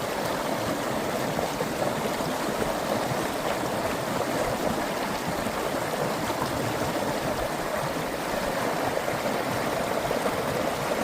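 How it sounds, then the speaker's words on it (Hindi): Ice-cold mountain river near Manali rushes past in a loud, continuous broadband roar of flowing water, steady from start to finish with no voices. "आप सिर्फ पानी की आवाज़ सुनिए और महसूस कीजिए यहाँ की ठंडक को।"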